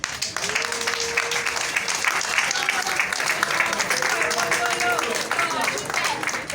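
An audience of agents and staff at a ministry of digital affairs gathering applauds, a steady crowd clapping mixed with voices and a sustained tonal hum running underneath.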